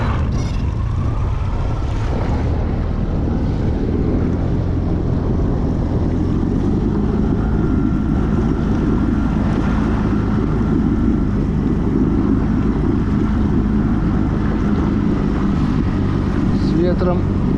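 A Ural motorboat runs steadily on a small river, its engine a constant low drone under heavy wind buffeting on the microphone throughout.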